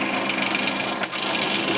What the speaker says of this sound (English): I decided to use my drill press just because it'll go through straight.